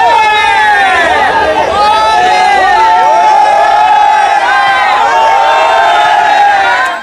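A football crowd roars and cheers at the end of a Phoenix League final between Flacheco and 5 Estrelas, a dense, loud, sustained wall of shouting voices and whistling that swells and holds steadily throughout.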